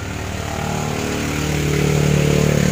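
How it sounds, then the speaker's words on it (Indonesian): Yamaha Mio GT scooter engine idling too high, a loud continuous buzzing drone close by that rises slightly in pitch and volume, with no talking. "stasionernya pada langsam dia terlalu tinggi, jadi kurang enak dengar suaranya guys."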